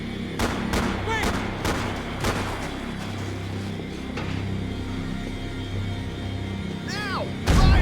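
Repeated gunshots in a Max Payne 3 firefight, sharp cracks and booming shots at irregular intervals over a rumbling background, with a heavy blast at the end and some shouted voices.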